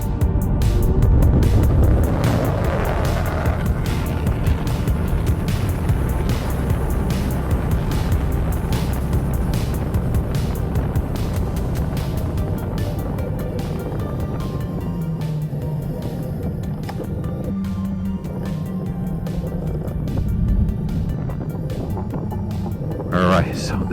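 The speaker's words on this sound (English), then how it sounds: "I'm just going to open up the throttle all the way." A Stealth Bomber electric bike accelerates at full throttle in sport mode out on the road, heavy wind roar and rumble dominating throughout, loud and continuous from close by.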